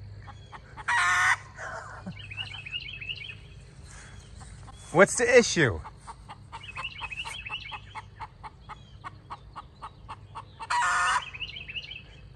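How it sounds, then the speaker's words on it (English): A backyard chicken calls repeatedly in bursts over a garden at dusk, with bird chirps in the background and a person speaking briefly. "my chicken is over there calling"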